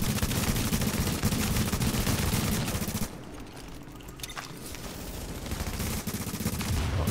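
Sustained bursts of automatic gunfire in The Division, a team PvP shootout, dense and loud for three seconds, easing off briefly, then rising again into heavy continuous firing.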